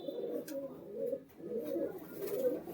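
Giribaz pigeons coo in low, throaty rolling phrases, three or four cycles in a row, close and distinct with a little background noise.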